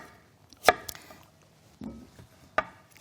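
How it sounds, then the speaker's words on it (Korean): A kitchen knife cuts potatoes into bite-size triangles on a board, giving a few sharp, close chops spaced apart against a quiet background. "감자를 삼각으로 이렇게 한 입 크기로 이렇게 해서 삼각으로 썰어서 이제 준비를 해놓고요"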